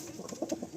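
A pigeon coos in a short, soft burst of low, throaty notes that pulse about four times in under a second, close by. The bird belongs to a male and female pair of fancy pigeons.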